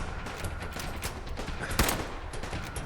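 A single sniper rifle shot in Fallout 4, a sharp crack standing out briefly over dense, steady game noise.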